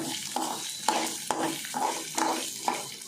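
Chopped ginger frying in a pan for chutney, a soft steady sizzle broken by rhythmic scrapes and taps of a spoon stirring against the metal about every half second, close and fairly quiet, no one speaking.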